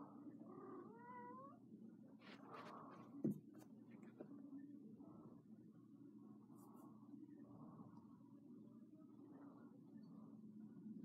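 Faint meows from a cat in a mining video game, a few short calls early on over a steady low hum, quiet and alone.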